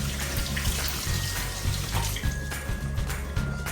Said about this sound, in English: So, we got to wash it off some here.